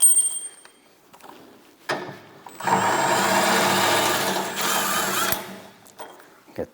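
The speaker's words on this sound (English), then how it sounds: "So now I'm gonna back those bolts all the way out." A power tool, likely an impact driver or drill, whirs steadily for about three seconds while backing bolts out of the fan housing on a MUSKOX 26-84 snowblower, preceded by shorter clicks and handling noises nearby.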